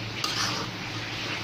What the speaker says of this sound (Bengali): তাহলে আমি একটু ভাজা ভাজা করে শুকনো শুকনো করে নিচ্ছি